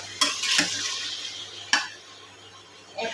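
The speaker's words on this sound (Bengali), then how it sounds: "তরকারিটা ভালোভাবে নাড়াচাড়া করে নিয়ে" Fish curry with small mola and chanda fish is stirred in a pan, a few distinct utensil scrapes and knocks against the metal over a faint low sizzle, close and quiet.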